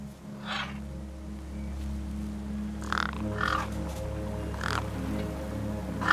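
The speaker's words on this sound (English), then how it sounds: "No way I was going to get between those birds and their feast." Birds caw while feasting in the video game Beyond a Steel Sky, several short harsh calls scattered over a low steady hum of ambient game sound, with no speech.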